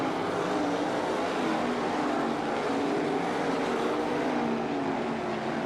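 Race cars roar steadily through a heat race at Attica Raceway Park, a loud, continuous engine drone with no break across the whole stretch.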